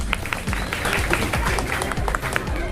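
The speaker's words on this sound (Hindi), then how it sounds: "तालियों से स्वागत किया जाए" Welcoming applause from an audience at a political meeting in Dharavi, steady clapping with a low background murmur, moderately loud and continuous.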